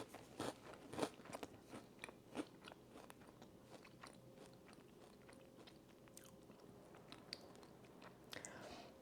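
Close, quiet chewing of crunchy protein cereal, with several sharp crunching bites early on, then softer steady mastication and small crackles.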